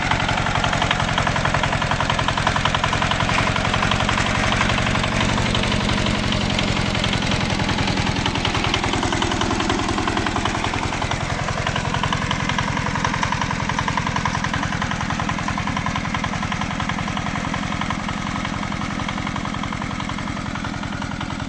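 Tractor engine pulling in first low gear while driving for firewood, a loud, continuous close-up rumble with steady knocking vibration and a slight shift in pitch midway, no voices over it.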